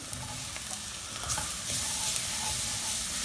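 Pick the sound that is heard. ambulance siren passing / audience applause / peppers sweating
peppers sweating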